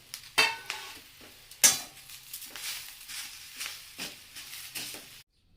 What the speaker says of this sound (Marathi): जे आलं लसूण ठेवलं होतं ते पण आता मी ह्याच्यामध्ये परतून घेते